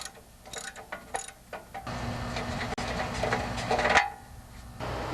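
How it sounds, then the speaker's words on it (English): Ratcheting clicks and mechanical rattle from a socket wrench loosening and pulling the spark plug from a 12 HP Briggs & Stratton engine on a Craftsman lawn tractor, close and moderately loud with a steady grinding stretch. "insert your socket wrench onto the plug and just take it out"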